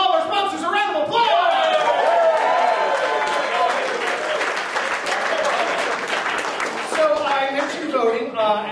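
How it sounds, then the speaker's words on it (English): An audience at a live stage show applauds the sponsors with a sustained, dense round of clapping, while a voice carries on over the applause. "Ladies and gentlemen, please give all our sponsors a round of applause."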